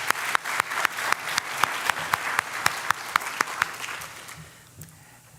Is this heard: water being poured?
no